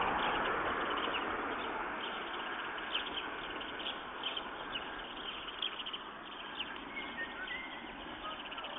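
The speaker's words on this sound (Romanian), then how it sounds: "Undeva se aude și privighetoarea." A nightingale sings faintly from a distance near Florești, its short scattered chirps rising from a quiet outdoor hiss.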